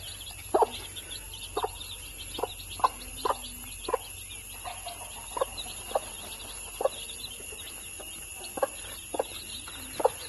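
Soft, steady clucking from a native country hen, short rhythmic calls repeated over a faint background hum, with occasional higher chick peeps.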